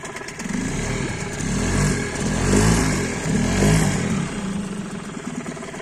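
A Mercury 5 two-stroke outboard boat motor runs steadily nearby, its buzzing drone swelling and easing slightly in pitch and loudness without any voices.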